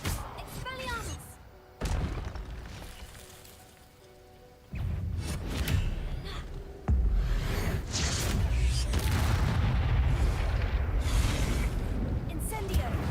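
Spell-casting effects in a Hogwarts video game, the Expelliarmus disarming charm among them: sharp magical bursts and thumps followed by a dense, loud crackling rush, mixed with other game effects and a voice.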